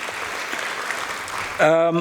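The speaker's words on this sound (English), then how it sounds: "if you can give them a round of applause" An audience at a formal finance event gives a round of applause, a steady wash of clapping that gives way near the end to a sustained musical tone or chime.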